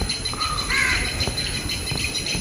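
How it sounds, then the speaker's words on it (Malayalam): A crow gives a single close, harsh caw near a house, with faint chirps from other birds and insect hum beneath. "ഞാനാണിങ്ങനെ കിളികളുടെ ഇങ്ങനെ സൗണ്ട് കേട്ടപ്പോൾ കിളികളുടെ വീഡിയോ പിടിക്കാൻ വേണ്ടിയിട്ടാണ് ഞാൻ"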